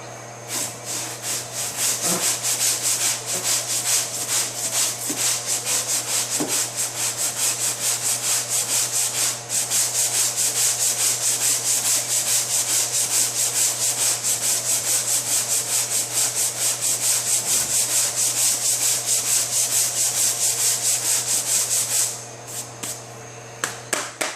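Steady, continuous rasping of a sanding block rubbed back and forth by hand over a 2005 Honda S2000's body panel during damage repair, close and loud, with no talking.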